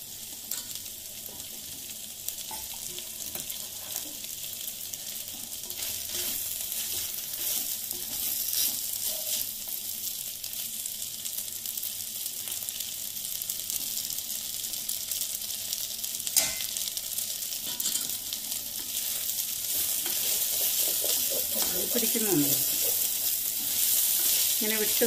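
Ghee sizzles and fries steadily in a pan while chicken biryani is cooked, a continuous close hiss and crackle that grows slightly louder toward the end, with no talking.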